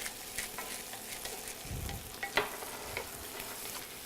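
Breakfast potatoes seasoned with chipotle pepper and paprika sizzle steadily in a pan, a soft, continuous frying hiss with a few brief stirring clatters, heard alone without talk.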